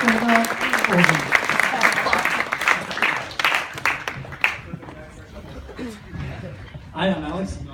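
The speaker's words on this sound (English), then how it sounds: "Let's do a standing ovation. So everyone stand up. Big round of applause." Audience at a startup pitch event giving a standing ovation, dense clapping that is loud at first and then thins out, with speech and some chuckles mixed in over it.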